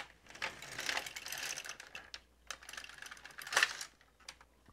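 An LK 150 knitting machine carriage sliding across the needle bed to knit a row, a continuous rattling, clicking sweep with a brief louder burst near the end, close and alone.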